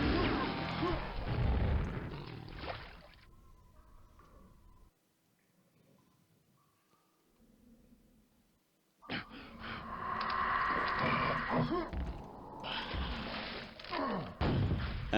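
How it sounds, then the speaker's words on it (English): Rocket explosions in the video game Quake, heavy booming blasts that fill the opening seconds, then drop to near silence before another long stretch of loud, dense explosive roar returns. "And do some rockets."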